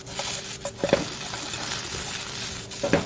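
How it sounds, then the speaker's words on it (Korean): Soaked shiitake mushrooms stir-fried with soy sauce and seasoning in a pan: soft sizzling under scraping and tapping strokes from a utensil, a few sharper clinks standing out. "그래서 간장과 여러가지 양념이 잘 배일 수 있을 정도로만 볶아줍니다."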